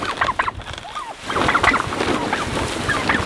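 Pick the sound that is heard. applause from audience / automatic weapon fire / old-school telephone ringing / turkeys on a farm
turkeys on a farm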